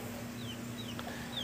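Young Japanese Shamo chicks of the Buchiban line, imported from Japan, give a few thin, high chirping peeps over a steady background hum, faint and brief.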